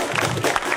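Women clapping together at a Kalinga community meeting in Hyderabad, a brief burst of dense applause from a small group.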